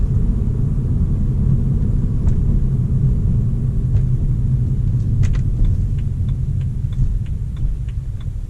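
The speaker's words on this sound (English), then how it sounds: "Got the car all warmed up. This is just going to be a nice drive." A BMW 335i cruises along a road, its engine a steady low rumble with road noise throughout, close and fairly loud, with faint clicks and ticks near the end and no talking.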